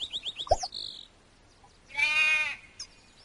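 A lamb bleats in the farming video game Farmville 2, one clear bleat that rises above faint chirpy game effects heard just before it, with no talking.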